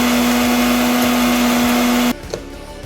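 A mixer grinder blends onion and tomato masala with a loud, steady whirring drone for about two seconds, then cuts off abruptly, leaving a quiet room with a faint knock.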